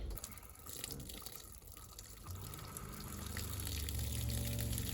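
Pink RV antifreeze pours into a toilet bowl during winterizing of a 2022 Geo Pro 15TB travel trailer, a continuous close gushing flow that grows steadily louder and fuller.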